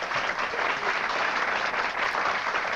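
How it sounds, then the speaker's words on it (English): A studio audience at a talk show applauds, a dense, even wash of clapping that holds steady throughout the few seconds, fairly close and continuous. "We can applaud for them, that's okay."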